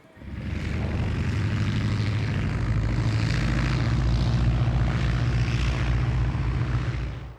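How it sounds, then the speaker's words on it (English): A seaplane's propeller engine drones steadily over Vancouver Harbour, a loud, continuous low hum that holds level for the whole stretch, with no voices. "Seaplanes are everywhere in Vancouver."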